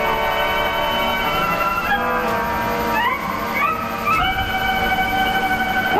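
A train rumbles steadily along a mountain railroad, loud and close, with a dense low roar and a sustained whistle-like tone that shifts pitch a few times.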